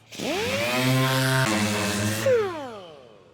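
Power sander working rough body filler on a farm truck with 100 grit paper, a steady droning whine that rises at the start, holds, then winds down near the end, loud and close with no talk.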